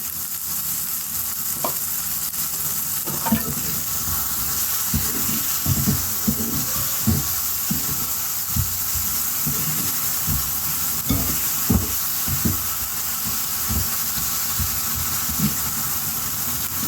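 Tomatoes and salt fry in a pan for chutney, giving a steady, loud sizzle with scattered stirring scrapes and clinks against the pan throughout, and no talking.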